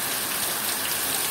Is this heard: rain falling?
yes